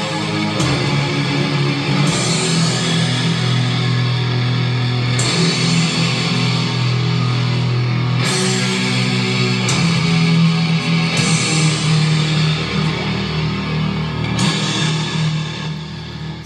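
Crushing, dark death doom metal plays from a vinyl record, a dense, loud wall of distorted guitars and heavy low end that surges and shifts in sections without any talk.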